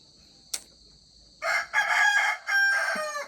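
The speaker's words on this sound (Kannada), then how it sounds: "ನಮ್ಮ ಕೋಳಿ ಸಹ ಸೂಪರಾಗಿದೆಯಂತೆ ಆ್ಯಂಡ್ ಗುಡ್ ಮಾರ್ನಿಂಗ್ ಹೇಳ್ತಾ ಇದೆ" A domestic rooster crows loudly and close by in two long, ringing calls lasting about two seconds, after a single sharp click in an otherwise quiet morning.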